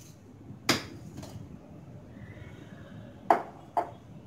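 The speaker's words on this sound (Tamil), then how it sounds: "இப்போ டோக்லாவை பீசஸாக கட் பண்ணிட்டோம்" A knife cutting steamed dhokla into pieces gives four sharp taps against the tray, in two pairs spaced a few seconds apart, over a quiet kitchen background.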